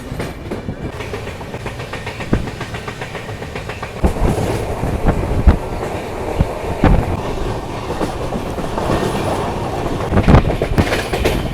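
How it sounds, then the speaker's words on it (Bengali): A train rolls into Bardhaman Junction, a steady heavy rumble with rhythmic wheel clatter and occasional louder knocks, close and continuous, with no voices. "এই মুহূর্তে আমাদের ট্রেন এসে পৌঁছালো তার যাত্রাপথের প্রথম হল্ট বর্ধমান জংশন রেলওয়ে স্টেশনে"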